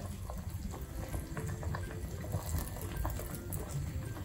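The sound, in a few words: peach jam bubbling while boiling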